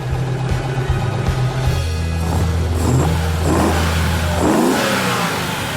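A Lamborghini Urus engine revs hard, climbing in pitch through several loud bursts over a steady low idle, close up and with no voices.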